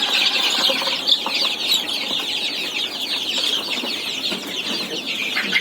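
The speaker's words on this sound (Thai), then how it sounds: "นี่ก็ชุดรวมเหมือนกันนะครับไก่บ้านไก่ดำไก่ตีโตนะครับ" Around thirty young native, black and fighting chickens on a Saraburi poultry farm keep up a dense, continuous chorus of clucks and chirps, fairly close and steady with no talking.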